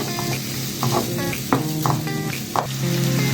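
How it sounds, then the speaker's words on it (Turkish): Chopped onions sauté loudly in a pan of oil, with a continuous close sizzle and occasional clinks of a utensil stirring against the pan, and no voices. "Soğanlarımı önce biraz kavuruyorum."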